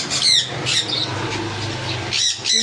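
Sun, pineapple and blue conure parrots giving loud, harsh squawks nearby, several rasping bursts at the start and a couple more at the end, over a busy background.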